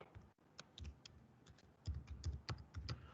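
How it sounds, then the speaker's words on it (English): Keystrokes on a computer keyboard, a run of sharp close clicks in uneven bursts, quiet and sparse at first, then quicker and denser typing. "I type here"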